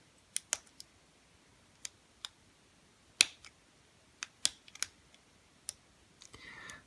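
A Kasp 14040 padlock is picked with a tension wrench, producing sparse, sharp little clicks and ticks at irregular intervals, close and crisp against near silence.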